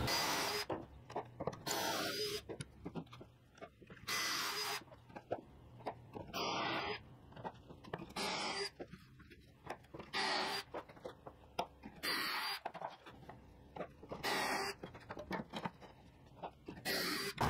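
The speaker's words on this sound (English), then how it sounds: "now what I'm doing is putting my pocket holes in all my side stretchers" Pocket holes being drilled into wooden side stretchers for a cornhole board frame, heard as short, close, loud drill bursts repeating about every two seconds with quiet gaps between.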